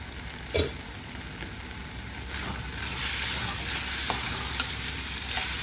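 Mustard and fenugreek seeds sizzle steadily in hot oil for a curry, a continuous crackling hiss with a few small pops and a faint stir partway through, no voices.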